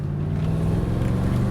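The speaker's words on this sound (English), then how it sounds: "The supercharger whine working fantastic." Supercharged Mercedes-Benz CLS 55 AMG engine under load, with a steady mechanical whine riding over a loud continuous engine drone and road rumble, close and unbroken throughout.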